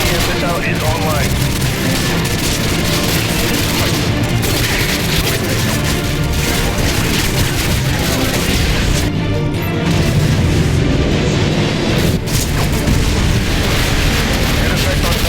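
Modern Warfare 2 game combat, missile strikes and heavy explosions in a dense, loud, continuous barrage of booms and crashes mixed with gunfire, with voices speaking beneath the din.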